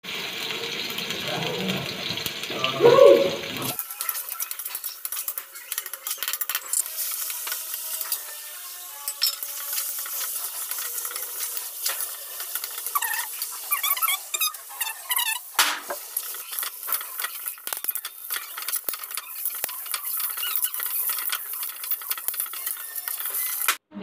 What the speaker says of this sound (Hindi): मटर है, मूंगफली है, ये चूरा है, और अब मैंने तेल डाला है गरम